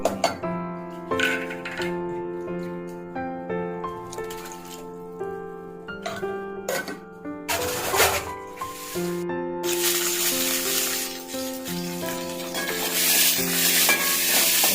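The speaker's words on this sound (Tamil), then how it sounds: "வெங்காயம், அப்புறம் கருவேப்பிலை, பச்சை மிளகாலாம் போட்டு கொஞ்சம் எண்ணெய் விட்டு நல்லா வதக்கிங்க" Onions with curry leaves and green chillies sizzle and crackle in hot oil while a utensil stirs and scrapes the pan, the frying growing louder and brighter toward the end.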